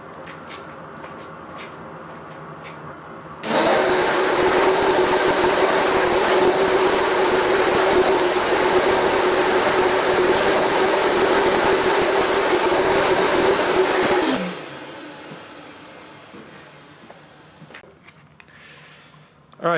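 A carpet cleaner makes a loud, steady whine and suction roar through a cleaning pass that lasts about eleven seconds, starting abruptly and cutting off, with quieter motor hum before and after.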